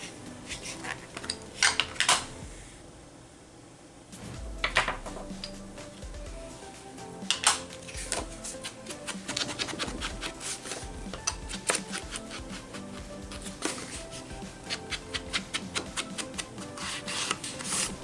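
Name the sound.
distressing paper edges with walnut stain ink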